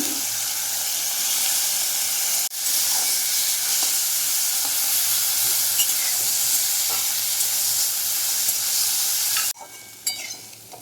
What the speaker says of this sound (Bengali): এবার ড্রাই ফ্রুটগুলো ভেজে নিচ্ছি